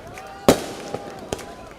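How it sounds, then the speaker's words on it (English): Firecrackers popping outside before a New Albany Bulldogs high school football game against Saltillo: one sharp loud crack, then two fainter pops spaced a little apart over a low crowd murmur. "Got the firecrackers going and all that kind of stuff"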